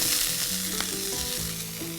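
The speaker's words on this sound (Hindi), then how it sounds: "रवे को घी में लाइटली टोस्ट करना है, कलर चेंज नहीं होना चाहिए" Sooji (rava) is lightly toasted in ghee in a pan, giving a soft continuous sizzle with faint stirring scrapes and no talking.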